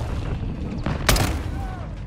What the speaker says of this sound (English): Launching grenades!